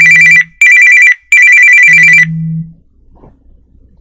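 A telephone rings with an incoming call on a live radio show, three loud electronic trilling bursts separated by short gaps, then a low hum as it stops.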